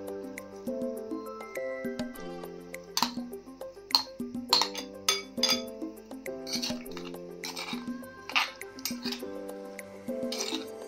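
Chopped cucumber pieces with green chillies pounded by hand for a cucumber chutney, giving a run of sharp, close knocks and wet squishy thuds in an uneven rhythm over a steady background tone.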